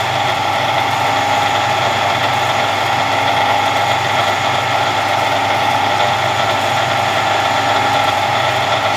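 A Harrison M300 metal lathe runs steadily, giving a loud, constant mechanical hum and whine with no change in pitch throughout.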